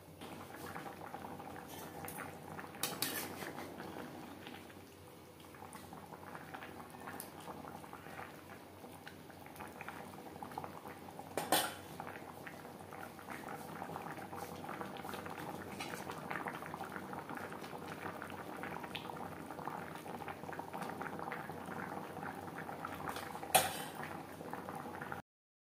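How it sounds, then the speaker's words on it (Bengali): Rui fish curry with potato and drumstick simmers steadily in its gravy, a continuous soft bubbling and burbling that runs throughout, with a few brief clinks and pops rising above the low, even boil. "গ্রেভির সাথে মাছ আরও 3-4 মিনিট রান্না করব।"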